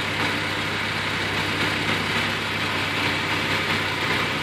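A small four-cylinder Honda engine idles steadily while running on gasoline vapor, giving a continuous close low rumble with an even drone and no talking.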